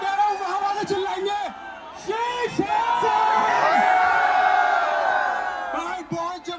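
A large crowd at a fan meetup in Delhi NCR shouts and cheers loudly and close by, whoops and yells swelling into a sustained roar, with voices calling out throughout.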